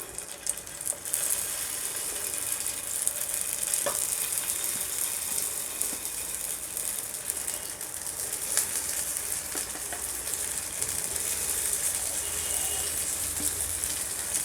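Veg patties shallow-fry in a little oil in a pan, giving a steady, close, even sizzle with a few faint clinks, and no voices over it.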